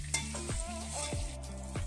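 Whole cumin seeds and bay leaf sizzle in hot oil left from frying fish, a steady close frying crackle with several scraping stirs of a spoon or spatula in the pan, no talking.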